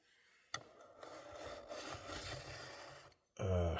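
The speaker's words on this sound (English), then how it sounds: "Now what I'm going to do is take a flat file, a mill file." A flat mill file rasps back and forth along the fret edges of a 1965 Kawai Kingston guitar in a few close, gritty strokes, followed by a brief louder sound at the end.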